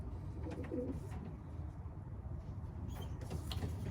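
Pigeons at a Capistrano pigeon loft cooing low and soft under steady outdoor background noise, with a faint scraping or sliding sound partway through.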